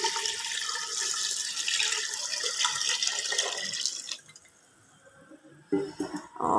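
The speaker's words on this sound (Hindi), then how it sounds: "और इसमें डालेंगे खूब सारा पानी।" Plenty of water pours steadily into a cooking pot holding meat, onion, whole black peppercorns, salt and turmeric for yakhni, a loud continuous splashing rush that stops and then briefly resumes.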